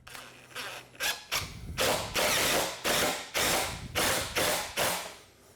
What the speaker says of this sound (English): that's why we want to drive screws, because we need to close this gap permanently.